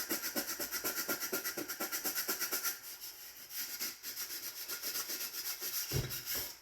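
Steady rhythmic scrubbing of stuck-on grime on a stove top, fast regular back-and-forth strokes that pause briefly and then resume at a slightly different pace, close and alone.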